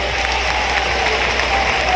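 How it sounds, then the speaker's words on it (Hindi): An audience applauds steadily to welcome Bharat Singh Kushwaha at a Kushwaha community political event in Madhya Pradesh, a dense, even clapping that holds loud throughout. "ताली बजा के भारत का स्वागत करो"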